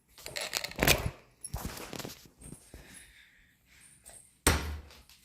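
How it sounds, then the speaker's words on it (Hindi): A key unlocks the door of a closed room, which is then opened: metallic clicks and rattles, a clunk of the latch, and a sharp knock as the door moves, all close by with short pauses between. "अब चाबी से हम खोलते हैं दरवाजा"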